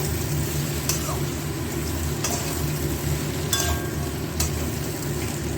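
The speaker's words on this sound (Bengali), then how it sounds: "মাছগুলো দিয়ে এবার ভাজা ভাজা করতে হবে।" Morola fish frying in a pan with capsicum and onion, a steady loud sizzle with a few clinks of a spatula against the pan.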